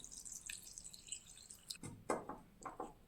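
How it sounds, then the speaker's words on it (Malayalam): Water poured into a curry mixture of finely chopped ginger, pepper and salt in a home kitchen, heard as a few short splashing pours and drips, close and fairly quiet, with no talking. "അതിലേക്ക് വെള്ളം ചേർത്ത് കൊടുക്കാം."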